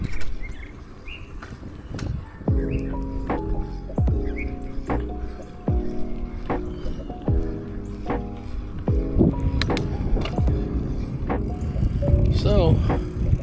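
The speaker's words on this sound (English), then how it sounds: "why not go for a little bike ride?" Bicycle ride outdoors in a neighborhood, with repeated clicking and rattling from the bike over a steady rumble of wind and road noise, fairly close, and faint background sounds.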